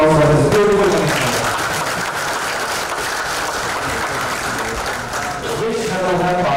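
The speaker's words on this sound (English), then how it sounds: "Let's have a huge round of applause for this beautiful commission." A large crowd applauds at an anniversary celebration, loud and continuous, with a voice speaking over the clapping at the start and end.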